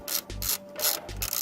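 Ratchet fitted with a 10mm socket backing out throttle body bolts on a BMW N54 engine, giving a run of quick close clicking bursts with a low thud between strokes, no voices.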